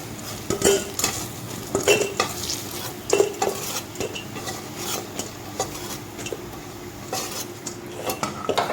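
Chana dal fritters being lifted out of a frying pan, with a steady sizzle of hot oil and repeated scraping and clinking of a metal utensil against the pan, close and fairly loud, with no speech.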